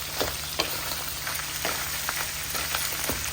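Onion, garlic and green chilli frying in hot oil for biryani, a close steady crackling sizzle with soft periodic pops and stirring taps, no voices.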